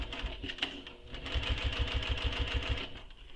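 A sewing machine runs a quick burst of stitches on a soft toy project, a rapid even mechanical chatter close by that starts after a brief pause and stops near the end.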